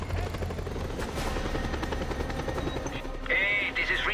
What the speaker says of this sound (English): The faction has sent an helicopter to pick me up.